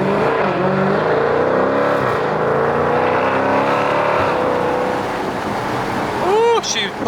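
A car accelerates hard without paddle shifters, its engine note climbing steadily and loud throughout with road and wind roar underneath, the pitch rising through the gears before a brief easing near the end.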